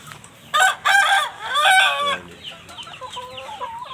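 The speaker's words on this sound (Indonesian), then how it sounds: "Indio Gigante ini betina-betina memang kita umbar kawan-kawan." Free-ranging Indio Gigante hens and a rooster on a small backyard farm, with a loud nearby crow and repeated clucking, then softer scattered clucks and calls.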